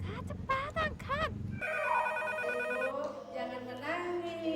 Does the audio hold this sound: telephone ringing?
yes